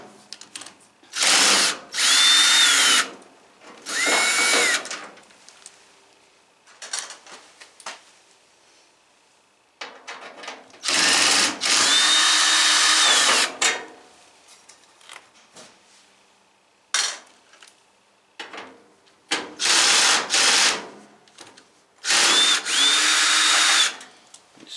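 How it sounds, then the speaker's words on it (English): A power drill backs tight screws out of a Maytag Neptune dryer in several loud bursts of whirring, each a second or two long, separated by quieter handling clicks and metal clinks. "Screws are in there pretty tight. I'm just going to keep taking those out."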